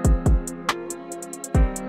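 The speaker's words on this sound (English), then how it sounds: "Extend your hi-hats by making 4 beats of it, change the velocity, and make a fast repeat on the last hats like this." A short programmed beat of crisp hi-hats ticking in an even pattern with varied velocity and a quick rapid-fire roll on the last hats, over deep booming kicks, loud and without speech.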